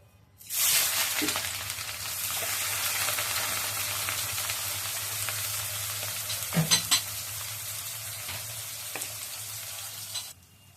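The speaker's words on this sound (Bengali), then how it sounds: "তেলটা দিয়ে রেখেছি, প্রথমে আমি পেঁয়াজগুলো দিয়ে দিলাম" Onions dropped into hot oil in a wok: a sudden loud sizzle starts, then settles into a steady frying crackle, with a few spatula scrapes and stirring clatters partway through before it cuts off.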